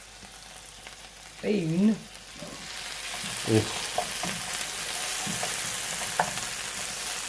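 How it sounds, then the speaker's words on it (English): Buffalo meat and par-cooked noodles sizzle in a hot pan with a steady, close frying hiss, while someone talks briefly over it and a spoon scrapes now and then. "Oh man, listen to the sizzle"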